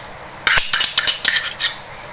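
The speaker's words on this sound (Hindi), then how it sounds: "इसको मिक्स करना है अच्छी तरह से" Metal utensils clink and scrape against a bowl while mixing a raw minced camel meat kebab mixture with tomatoes and ginger-garlic paste, a quick cluster of bright taps close up, with no talking.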